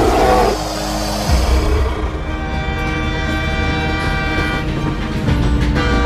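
An animated train blasts a loud, sustained horn with a rumbling engine underneath, the tone holding steady over several seconds.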